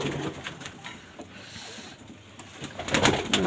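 Soft pigeon coos and fluttery bird sounds over a steady outdoor background, growing a little louder toward the end.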